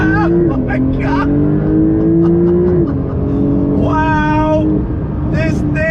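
A 2021 Porsche 992 911 Turbo S in sport mode with its PDK gearbox pulls hard from the cabin, its engine tone sweeping up through quick gear changes, loud and continuous, with a voice exclaiming over it.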